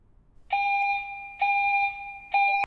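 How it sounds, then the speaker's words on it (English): A building fire alarm sounds three loud electronic tones, each lasting nearly a second, separated by brief gaps in an otherwise quiet space. "Attention please. A fire alarm has activated."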